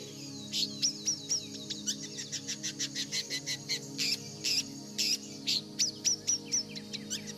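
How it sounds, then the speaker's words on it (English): A small shrike repeats sharp, high chirping calls in a steady rhythm of short bursts, with several calls each second. The calls carry clearly over a low background hum. "It was a shrike"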